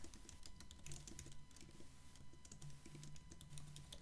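Keyboard typing with fast, steady key clicks, close and faint with quiet background hum and no talking.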